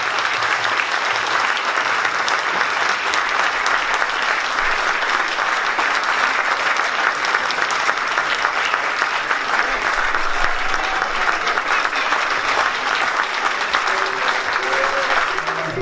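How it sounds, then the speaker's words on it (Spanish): Sustained applause from a crowd fills the whole stretch, dense and steady without letup, a few faint voices and tones surfacing near the end. "Un gran aplauso, por favor."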